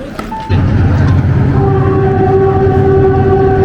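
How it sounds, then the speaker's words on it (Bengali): A train rumbles in loud and close at Nine Arch Bridge in Sri Lanka, its deep mechanical roar starting abruptly and holding steady, with a sustained tonal hum that could be its horn. "ট্রেন আসতেছে স্পেশাল হ্যাঁ, ট্রেন"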